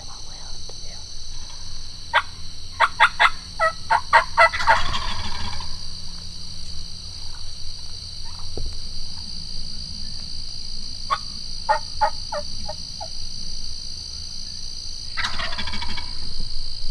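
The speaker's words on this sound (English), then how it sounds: "flocks of turkeys can be hard to deal with. They're fun to watch, they're fun to listen to" Wild Osceola turkeys in a flock gobble in repeated rattling bursts, several overlapping at mid distance, with quieter spells between calls against steady insect-like background hiss.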